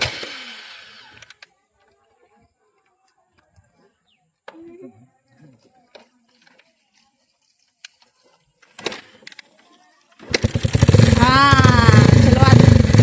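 A two-wheeler engine is started after a quiet stretch with a few small clicks and knocks, then catches and settles into a loud, steady running rumble close by.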